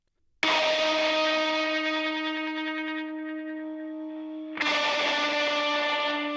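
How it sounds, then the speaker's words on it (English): Electric guitar played through a heavily overdriven space echo, sustained distorted chords ringing with dense repeats and a long decaying tail, then a second loud strum re-entering near the end, alone with no voices. "Which is the highly overdriven space echo."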